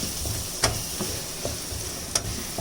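Oregano is stirred into a simmering shakshuka sauce in a pan, giving a soft steady sizzle with a few light scraping taps of the spoon, close up and without talk.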